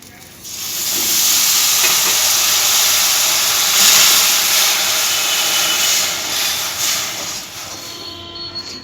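Water poured onto jaggery in a hot wok sets off a loud, steady hiss of steam that holds for several seconds with no talking.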